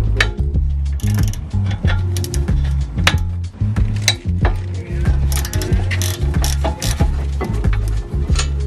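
A 14 mm socket on a ratchet is used to remove brake caliper bolts during an Acura RSX brake job, giving rapid, close metallic clicking in repeated bursts over a low steady hum, without speech.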